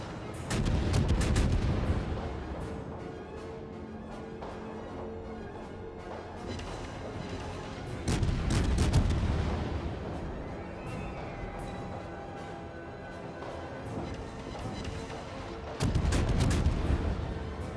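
Ship gunfire in a naval warship game replay aboard the cruiser Perth: three heavy booming salvos roughly eight seconds apart, each with a long rumbling tail, over a constant low engine and sea drone.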